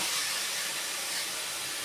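Young jackfruit hits hot fried spice paste seasoned with salt, turmeric and sugar, giving a loud, steady, broadband sizzle that holds without a break throughout.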